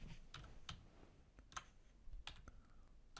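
Quiet, close keystrokes on a computer keyboard as a file name is typed, an irregular run of about a dozen soft clicks with no talking.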